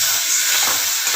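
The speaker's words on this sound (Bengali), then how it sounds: "মশলা জলটা একটু দিয়ে দিই।" Spiced water poured into a hot pan of tomato, salt and turmeric for a kofta curry sizzles loudly and continuously, a close, steady hiss filling the whole moment with no talk.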